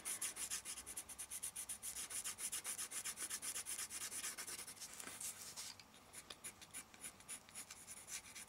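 Spectrum Noir coloured pencil shading on paper, a soft, quiet, rhythmic rubbing and scratching of repeated strokes, close and alone, easing slightly toward the end.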